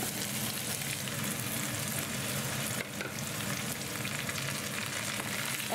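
Pumpkin pieces frying with onions in a pot give a steady, close, dense sizzle that runs unbroken, with faint stirring scrapes and no talk.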